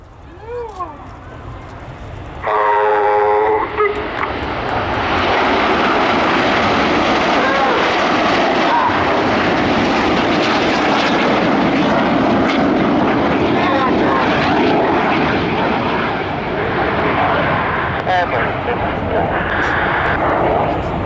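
Red Arrows jets of the RAF fly a display at RIAT 2024, a loud sustained roar that rises sharply after a few seconds and rumbles on under a commentator's voice.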